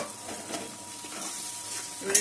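Spice paste frying and being stirred in a pan for Kolkata-style chicken chaap, a steady soft sizzle with scraping strokes and a louder scrape near the end, no one speaking.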